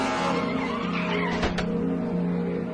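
A NASCAR truck at Martinsville, its engine droning loud and steady as the wheels slide, with a brief sharp burst near the middle of the run and no talking.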